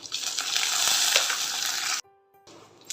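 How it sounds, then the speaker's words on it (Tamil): Mustard seeds, urad dal and dried red chillies tempering in hot oil in a pan, giving a loud, steady sizzle and crackle for about two seconds that cuts off abruptly into near silence, with a fainter sizzle returning at the end. "இதை வந்து தாளிச்சிடலாம் தீ வானலியில் கடுகு உளுத்தம்பருப்பு வரமிளகாய்"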